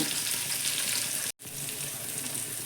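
Potato, eggplant and carrot pieces frying in oil, a steady close hiss with watery crackle that cuts out for a moment partway through, then resumes.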